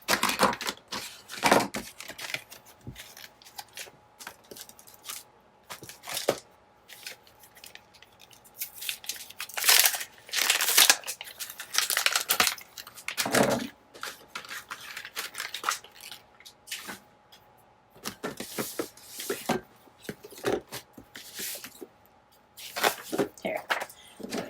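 Dollar Tree decorative edging scissors snip through paper in repeated crisp cuts, some in quick runs and others spaced apart, close up, with someone talking between the cuts.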